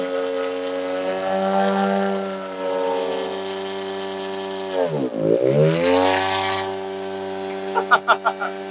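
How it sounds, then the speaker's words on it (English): The small engine and propeller of a cheap, underpowered Chinese paramotor drone steadily in flight. The pitch swoops down and back up midway, and a few sputtering pulses come near the end. "On the world's cheapest, most underpowered paramotor of all time."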